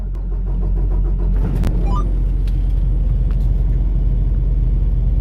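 A truck engine cranks and catches, then settles into a steady, loud, low idle rumble that runs without a break.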